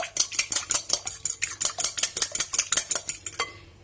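An egg yolk is whisked lightly in a bowl for almond cream. About twenty quick, even clinking strokes are close and clear, then they stop abruptly, with no voices.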